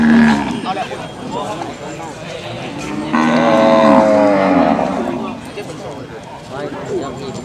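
Buffalo lowing at a busy cattle and buffalo market at Non Khamin in Phang Khon, Sakon Nakhon, with one long, loud moo rising over steady crowd chatter and background bustle.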